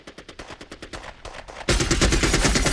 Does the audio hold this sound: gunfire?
yes